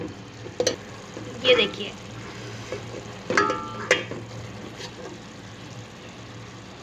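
Chicken fries in a pan with a soft continuous sizzle while a utensil scrapes and clatters against the metal in several sharp strokes; a person speaks briefly over it.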